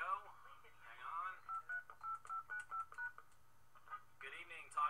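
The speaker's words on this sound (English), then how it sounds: "I'm going to dial in right now into my conference line." Touch-tone telephone keypad dialing into a conference line: a run of about ten short, evenly spaced DTMF beeps, clear and close, set between stretches of other sound.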